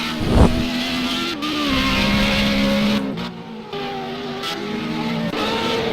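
A Formula Renault 3.5 race car engine revving hard in a racing video game at Road America, a loud continuous whine shifting in pitch as the car weaves to warm its tyres.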